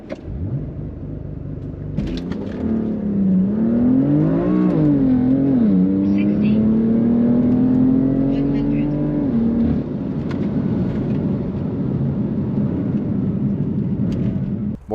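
BMW M4 Rocket Bunny widebody launching from a standing start, engine note climbing loudly through gear changes with a rising, wavering tone that eases off after several seconds, while someone talks over it.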